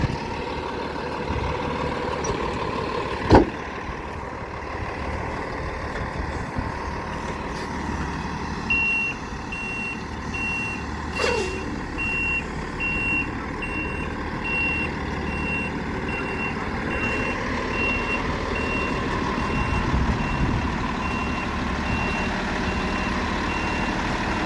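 Tractor-trailer truck backing up during a CDL offset parking maneuver, a steady repeating reversing beep over a constant low diesel engine rumble, with a brief sharp air-brake hiss or bang early on and no talk.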